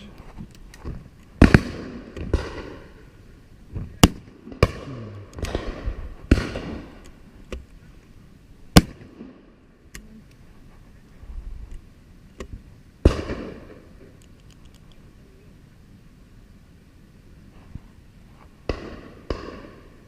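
A 28 bore shotgun fired outdoors on a UK shoot, a series of sharp, booming reports spaced irregularly across the stretch, some near and loud, others fainter and farther off, each with a short echoing tail.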